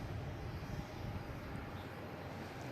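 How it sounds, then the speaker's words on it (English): A JetBlue airliner arriving from San Francisco at Boston Logan airport sends a steady, faint broadband engine roar that holds evenly with no talking. "here is a JetBlue coming from San Francisco"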